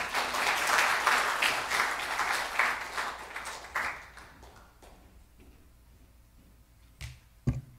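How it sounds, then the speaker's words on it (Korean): A church congregation applauds to welcome the pastor, dense clapping from many people in a hall, loud at first and then thinning out and fading over several seconds, ending with a few scattered thumps. "우리 목사님을 박수로 환영하겠습니다"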